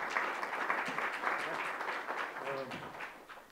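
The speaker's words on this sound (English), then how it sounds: "let's give a round of applause." Audience applause for a speaker at a talk on incorporating bean plants into soil, a steady, moderately loud wash of clapping with a brief voice surfacing partway through.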